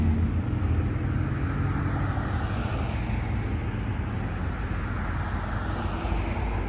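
Steady traffic at dusk by a beach, cars streaming past in a continuous, fairly loud wash of road noise with no clear gaps and no talking.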